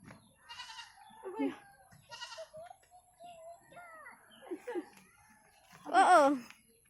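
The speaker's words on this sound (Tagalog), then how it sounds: "Where's the goat?" A goat bleats several times, short wavering calls spread through the moment with a louder, longer bleat near the end, while children's voices chatter nearby.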